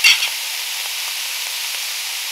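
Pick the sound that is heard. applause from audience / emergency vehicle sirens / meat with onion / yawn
meat with onion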